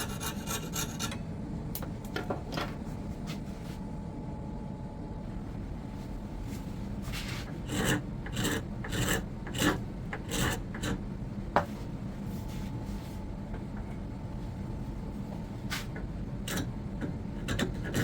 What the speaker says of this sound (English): There's a bit of a lip here on the wood, and I've been using a scraper and a flat file to get rid of some of that.